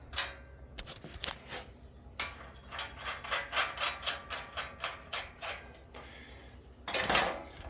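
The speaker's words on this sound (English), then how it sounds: "We'll loosen our bolts." Metal clicks and ratcheting clatter of a wrench loosening bolts on a DIY sheet metal bender under repair. The sounds are close, come in short rhythmic bursts with pauses, and end in a sharper clank.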